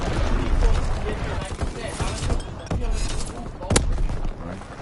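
Artillery and gunfire booming through a video game match, repeated heavy blasts with a sharp crack near the end, amid dense battle noise and a voice talking over it.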